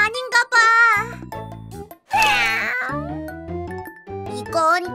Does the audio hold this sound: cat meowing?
yes